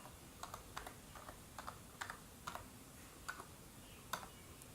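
A computer keyboard clicks through a short command typed on a PC, a dozen or so light, evenly spaced keystrokes, quiet and close, ending with a slightly firmer press.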